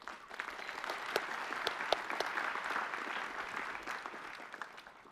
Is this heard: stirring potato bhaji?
no